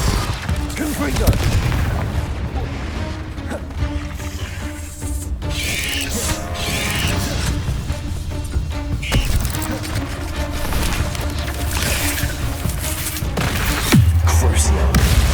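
Confringo fire spell explosions in the Hogwarts Legacy video game, repeated booming blasts and gunfire-like bursts amid continuous combat noise and music, with voices heard.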